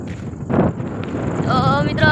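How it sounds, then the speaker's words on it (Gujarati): Strong wind gusting across an open sesame field, buffeting the microphone in rough bursts while a person talks over it nearby. "પવન મિત્રો બહુ આવ્યો માંડ્યો છે"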